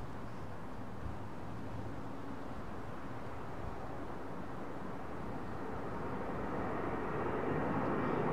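An airliner departing from runway 09R at London Heathrow, a faint broad distant roar of jet engines that swells gradually toward the end, with no voices.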